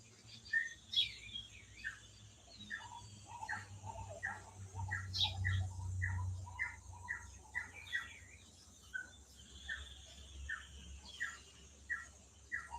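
Birds sing and chirp in a quick repeating series of calls, fairly distant, over a faint low rumble of background noise.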